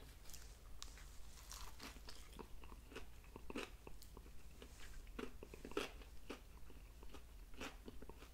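Crunchy bites and chewing of a spicy fried chicken sandwich on a soft bun with dill potato chips, repeated crisp crunches close to the mic at a quiet, steady pace with no talking.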